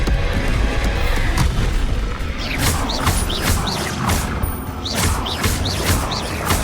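Bombarda blasting spell explosions in the video game Hogwarts Legacy, several sharp bursts with whooshing tails landing in quick succession over a dense, loud game mix of combat effects.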